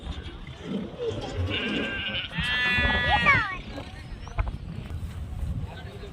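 A large flock of sheep bleats near a Balumama site, with one clear, wavering bleat standing out over the steady murmur of people talking and outdoor noise.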